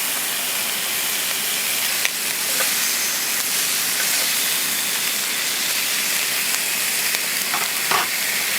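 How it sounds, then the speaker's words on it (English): Bacon frying over a campfire in the mountains, a loud continuous sizzle and hiss with occasional pops and crackles, steady throughout with no talk. "we're gonna cook up some bacon"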